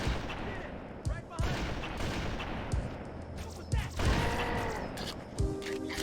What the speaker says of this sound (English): That's me fumbling that sniper shot.